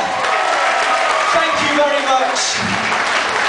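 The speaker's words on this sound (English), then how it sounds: "Give her a big cheer." Butlins holiday camp audience applauding and cheering after a knife act, a dense steady wash of clapping and crowd noise that fills the whole moment.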